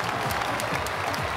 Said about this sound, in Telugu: I appreciate if all of you can give a standing ovation to these three great